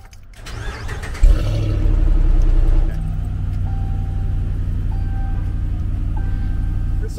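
A Dodge Power Wagon truck engine cranks and fires up, revving briefly with a loud rumbling exhaust note before settling into a steady, deep idle, heard close by through an open door.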